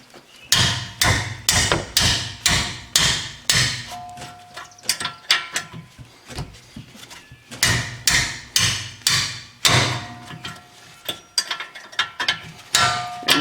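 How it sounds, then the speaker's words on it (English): Loud metallic hammer strikes on a box end wrench, loosening a bolt during rear brake work on a 2011 Honda Accord, rapid bursts of repeated clanging blows with short pauses between groups, close by. "I'm going to get just a box end wrench, and we're going to hammer on that"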